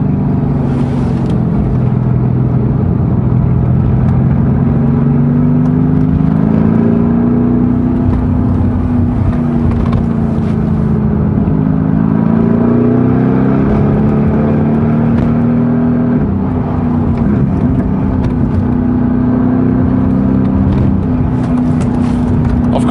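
A Mercedes-AMG GT S exhaust burbles on a mountain drive to Genting, giving a continuous, close, low engine drone that rises and falls gently in pitch with light throttle, and no voices are heard.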